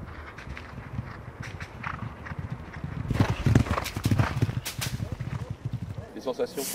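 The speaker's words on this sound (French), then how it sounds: "Le cheval est magnifique." A racehorse walks on a firm surface, its hooves clip-clopping in a steady rhythm. The footfalls are close and grow louder midway, with people talking in the background.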